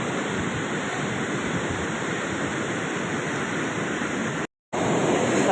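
Water roars steadily over a large dam, a loud, dense, continuous rush with a brief dropout near the end.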